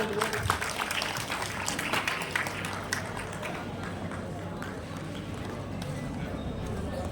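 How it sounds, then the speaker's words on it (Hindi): Sustained audience applause at a parish day celebration for the Feast of Christ the King, dense continuous clapping from a crowd, fairly close, with a voice speaking over it. "जोरदार तालियां दोस्तों।"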